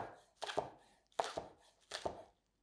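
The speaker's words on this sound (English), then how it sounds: "With the scallion, I'm just gonna chop it." Knife chopping scallion on a cutting board at home, three close, crisp bursts of quick double chops spaced about a second apart, with no talking.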